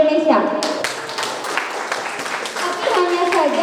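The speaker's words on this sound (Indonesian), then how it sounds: "Beri tepuk tangan untuk pemuda Indonesia." Audience applause for Indonesian youth at a youth training session on their strategic role in development: scattered sharp hand claps that start about half a second in and continue steadily, mixed with voices talking.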